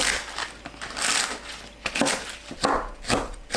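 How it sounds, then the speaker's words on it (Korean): A knife chops green onions (daepa) into pieces on a cutting board, giving irregular crisp thuds and crunches close up, with no talking. "파는 5cm 길이로 썰고 하얀 줄기 부분만 길게 두세 등분 합니다"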